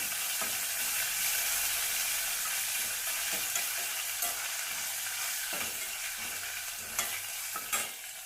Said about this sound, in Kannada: ಇದರ ಜೊತೆಗೆ ಇದನ್ನು ಸ್ವಲ್ಪ ರೋಸ್ಟ್ ಮಾಡ್ಕೊಳ್ಳೋಣ ಎಣ್ಣೆ ಒಳಗೆ